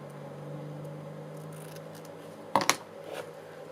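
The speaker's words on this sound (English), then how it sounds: "do a little snip." Scissors give a couple of quick, crisp snips, close by, over a low steady hum while someone crafts book page booklets from paper and fabric.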